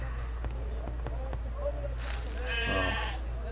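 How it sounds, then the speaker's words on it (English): A goat bleats in the Agatha Christie Murder on the Orient Express video game, a loud wavering cry of about a second, following a few soft clicks over a steady low hum. "It's literally a goat."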